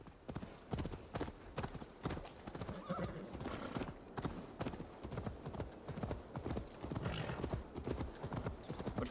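In Assassin's Creed Valhalla, horse hooves clip-clop at a steady galloping rhythm along a road, close and continuous, with a brief whinny and game ambience beneath.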